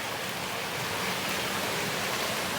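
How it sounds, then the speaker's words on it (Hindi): Heavy rain pours onto open water in a dense, unbroken hiss, loud and steady with no gaps and no voices. "ये देखें, पानी में आपको अंदाज़ा हो रहा होगा कि कितनी शदीद बारिश हो रही है इस वक्त पानी में।"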